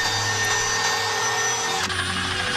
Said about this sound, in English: We'll use the drill and go in at a slight angle to make pilot holes.